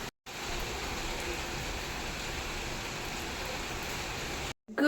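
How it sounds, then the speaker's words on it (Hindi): Morning rain falling outside, a steady wash of dense, even drops that holds constant for several seconds with brief silent gaps at the start and end, and nobody speaking. "गाइस सुबह सुबह से बारिश आ रही है हमारे यहाँ पे।"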